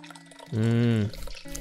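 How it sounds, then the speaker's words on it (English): Curds and whey being poured from a pot into a cheesecloth-lined strainer while making farmer's cheese, a brief, close, steady liquid gush lasting about half a second. "I can grab the pot with one hand to pour it in"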